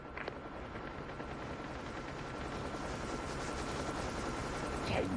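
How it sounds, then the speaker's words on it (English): Gunfire and a stealth chopper helicopter in a Call of Duty Mobile multiplayer Hardpoint match on the Nuketown map form a dense, steady roar of rapid shots and rotor wash, loud and continuous throughout. "Hostile stealth chopper inbound."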